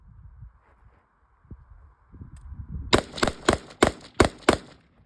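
Six sharp pistol shots fired in quick succession during a shooting drill, loud and close, each a hard crack with a brief tail, following a quiet stretch of faint rustling and handling noises.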